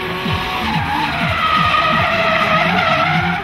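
A drift race car at a 2010 drifting qualifying event in Osijek exits the first corner at high speed, tires skidding loudly and continuously under a steady roaring engine with repeated rising revs, no talking.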